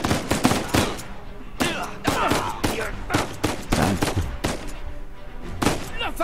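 Rapid gunfire from the Uncharted 4: A Thief's End video game, sharp shots and short bursts crackling almost nonstop throughout, loud and close with no talking.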